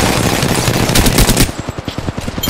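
Rapid automatic gunfire in Apex Legends, loud and close, a dense stream of shots that thins into distinct evenly spaced bursts toward the end.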